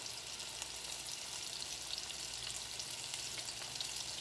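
Okra fries in hot oil with a dense, steady hiss and crackle, close and continuous from start to finish, with faint pops scattered through the sizzle and no talking.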